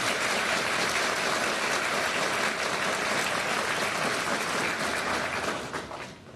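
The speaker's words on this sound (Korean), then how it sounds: "여러분 호응의 박수 한번 해주시기 바랍니다" Audience applause at a Korean justice minister's inauguration ceremony, a steady, dense round of clapping from a large hall that thins out in the final second.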